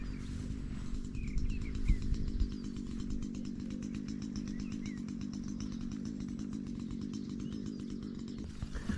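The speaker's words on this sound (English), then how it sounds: "while we're letting that engine warm up" A petrol hedge trimmer engine idles steadily while warming up beside an overgrown mixed-species hedge, a continuous buzzing drone held at one level throughout, with faint birdsong in the background.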